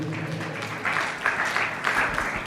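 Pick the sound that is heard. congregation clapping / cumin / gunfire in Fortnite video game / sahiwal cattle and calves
congregation clapping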